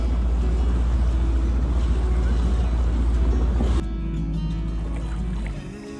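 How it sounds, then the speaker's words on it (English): A small dinghy outboard motor running rough drones loudly and steadily, then abruptly drops in pitch and sputters unevenly before fading, with a faint voice nearby. "Dinghy's not running very good."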